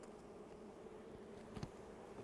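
Honey bees buzz in an open hive during an inspection, a faint, steady hum of many insects with no voices over it.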